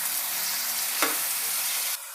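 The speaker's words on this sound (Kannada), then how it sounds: "ಈ ಟೊಮೆಟೊನು ಫ್ರೈ ಆಗ್ತಿದೆ" Small chopped tomato pieces fry in a pan with ginger-garlic paste, an even hissing sizzle with one brief stir midway, cutting off abruptly near the end.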